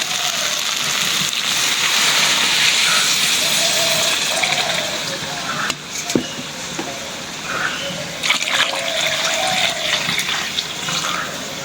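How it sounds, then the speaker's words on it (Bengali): Water pours steadily into a cooking pot of frying lentils for khichuri, a continuous rushing splash with a few small clanks partway through. "এখন পানি দিয়ে দেবো"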